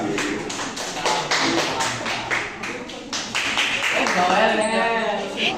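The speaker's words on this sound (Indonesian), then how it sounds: "Ayo berikan tepuk tangan untuk kelompok 2." Schoolchildren in a classroom clap together for a group of classmates, making a run of sharp, evenly spaced claps, with voices and chatter alongside.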